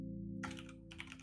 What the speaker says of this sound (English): I hear Mono's furious typing.